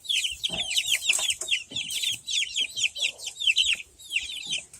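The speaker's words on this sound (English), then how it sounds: "There's some chickens." Farm chickens cluck loudly and continuously at close range, a busy overlapping chorus of rapid calls with no talking over it.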